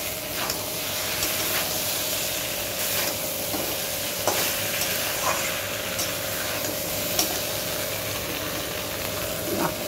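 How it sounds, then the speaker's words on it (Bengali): Fried vegetables for Bengali dudh sukto go into a hot pan and give off a steady, loud sizzle and hiss that lasts throughout, with occasional soft clicks of stirring. "বাকি সবজিগুলো দিয়ে দিলাম, ভেজে রাখা সবজিগুলো।"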